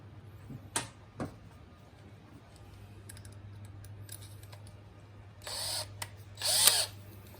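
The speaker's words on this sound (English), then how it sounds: "I used a smaller drill bit just to be my pilot hole, and then I'm going to continue on from there" A power drill whirs in two short bursts near the end, loud and close, boring a pilot hole with a small bit in motorcycle rear-set parts, after a few scattered clicks and taps over a low hum.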